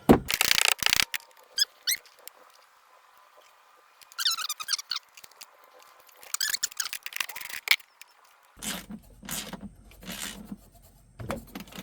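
Wrench taking 13 millimeter nuts off a golf cart battery during a LiFePO4 battery install: bursts of sharp squeaky metallic ratcheting and clicks separated by quiet gaps, close up, no voices.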